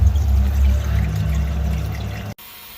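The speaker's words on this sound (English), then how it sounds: "we're going to drain all that water off after 24 hours, so here we go" Soaking water pours and splashes out of a bucket of malting corn as it is drained after a day of steeping, a steady close gush of water that stops abruptly near the end.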